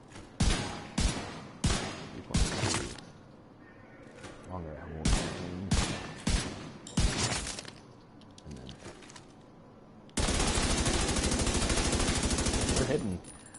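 Bursts of gunfire from a scoped weapon in The Division 2, firing in repeated loud volleys with short gaps, then a long sustained stream of rapid automatic fire near the end.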